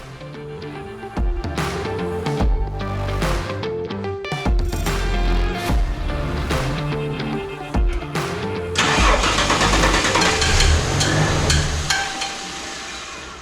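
A classic Ford XE Falcon, long parked, cranks over and fires up, its mid-pitched engine catching and settling into a loud, steady idle with some revving close by.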